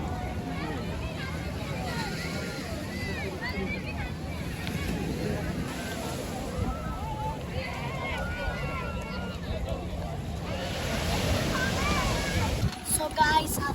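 Sea waves wash onto the beach at Cox's Bazar, heard as a steady surf roar mixed with wind buffeting the microphone, swelling louder near the end, with voices talking over it.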